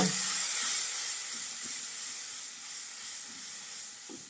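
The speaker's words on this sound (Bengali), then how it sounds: "এখন আমি মশলাগুলো এখানে অ্যাড করবো" Spices added to frying onions in a pan, a strong sizzling hiss that starts loud and eases off, with small pops and crackles scattered through.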